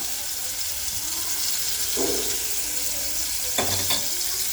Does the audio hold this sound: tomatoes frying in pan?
yes